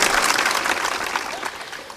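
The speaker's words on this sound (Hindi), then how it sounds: "तालियां ऐसे बजा रहे हैं जैसे महाभारत के युद्ध में घायल पड़े हैं" Audience applause at a Hindi spiritual discourse, a short stretch of scattered, fairly subdued clapping from a crowd that fades slightly over two seconds.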